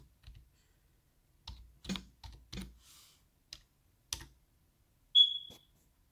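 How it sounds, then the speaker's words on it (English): Scattered keystrokes tapped on a PC computer keyboard, a few irregular clicks at close range in a quiet room, ending with a brief high electronic tone. "You want to go on your PC and you want to type in"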